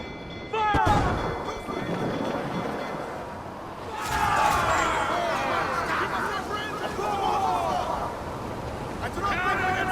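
Cannon fire in a pirate ship battle video game, heavy booms rolling out over a busy soundscape of wind, water and shouting crew voices, with a big blast near the start and more barrages around the middle.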